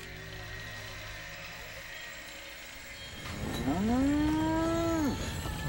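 A cow moos in Fallout 4, one long drawn-out call rising then falling, heard over a steady low ambient hum of the game world.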